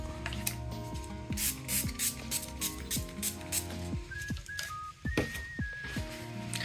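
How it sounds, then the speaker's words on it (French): Quick bursts of a water spray bottle hiss repeatedly at close range while a stencil is cleaned, short rhythmic puffs mixed with rubbing and squeaky scrubbing sounds. "Le spray avec l'eau, c'est indispensable."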